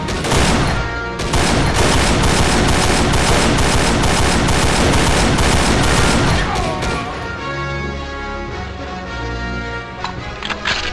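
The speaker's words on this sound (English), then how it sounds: "A heavy machine gun." Heavy machine gun fire in the video game Army Men II, sustained loud rapid bursts that run almost continuously, then thin out into scattered shots and rumbling impacts near the end.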